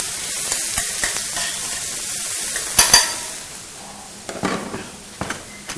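Curry leaves and tomato sizzle and spit in hot oil for an idli dish, a steady frying hiss with spoon scrapes and clinks against the pan, plus a couple of sharper crackles partway through.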